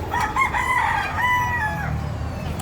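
A fighting rooster crows at Baliwag Market in Bulacan, one close, loud, drawn-out crow over low market bustle.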